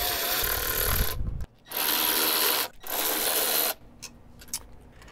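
Ratchet wrench with a 10 mm deep socket working on the fuel injector rail of a 4.0L Jeep Cherokee XJ: two bursts of rapid close clicking, roughly one second each, separated by short pauses, followed by quieter handling sounds.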